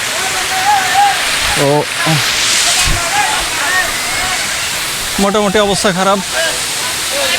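Khoiyachora waterfall pouring down a hillside step, a continuous broad rushing roar throughout while people talk nearby in short bursts.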